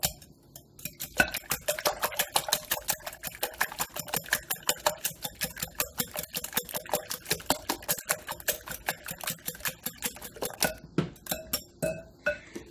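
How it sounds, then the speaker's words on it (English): Eggs being whisked for egg cups in a glass bowl, a fast, steady run of bright clinking taps as the whisk strikes the sides. The sound is close and even, with a short pause near the end and no talking. "I'm just going to get these whisked up."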